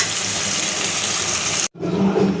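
Water poured into a pan of curry being fried with cumin powder to make gravy, a loud, close hissing rush that cuts off abruptly, then a softer sizzle and bubbling.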